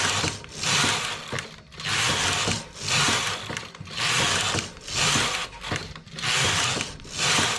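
Knitting machine carriage sliding back and forth across the needle bed while knitting rows of a vest, a rhythmic series of loud rasping, clattering sweeps about once a second, heard alone with no talking.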